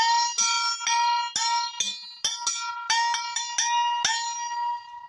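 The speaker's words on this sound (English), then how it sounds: "this is like a mini gong," A small Chinese-style mini gong is struck repeatedly at irregular intervals, each hit giving a bright metallic ring that overlaps the next, close and clear, with no voices.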